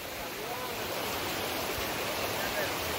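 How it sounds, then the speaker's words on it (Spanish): A river flowing steadily, a dense, continuous rush of water close by at constant loudness, with a voice faintly audible underneath. "ya viene a bajarse el agua, a correrse por aquí."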